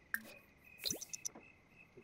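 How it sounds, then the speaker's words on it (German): Water sprinkling onto plants in The Sims 4, heard as a few quick, soft droplet and splash effects spread over about two seconds, fairly quiet and close. "Und komm, wir wässern mal alles,"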